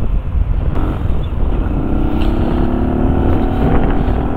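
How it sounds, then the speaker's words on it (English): A 2022 Benelli TNT 135 motorcycle revs inside a tunnel overpass: a loud, booming engine roar that echoes and climbs steadily in pitch, with heavy wind rumble over it. "do a little rev bomb inside the tunnel"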